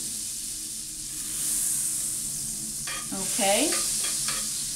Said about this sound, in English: So I'm burning my butter. Well, not burning it, but I'm melting it. I got my fire down low.